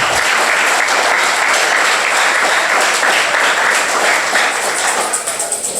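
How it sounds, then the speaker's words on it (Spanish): A church congregation breaks into loud, dense applause, sustained and enveloping throughout, with faint voices mixed in. "yo quiero que le demos un aplauso al Señor por todo esto"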